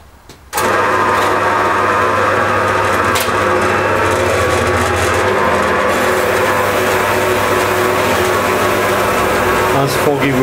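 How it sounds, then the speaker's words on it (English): Metal-cutting bandsaw slicing through steel knife blanks in a workshop, starting abruptly and running as a loud, continuous droning whine with a steady grinding texture throughout. "Cut these 4 more blanks on the metal cutting bandsaw."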